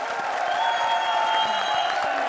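Studio audience clapping on the Indian TV comedy show Comedy Circus 3 Ka Tadka, a dense, steady wash of many hands with a few cheers and sustained tones beneath, loud and unbroken throughout.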